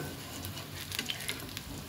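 Banana fritters frying in a little oil in a small kadhai, a steady soft sizzle with faint crackles and popping, close and quiet, without speech.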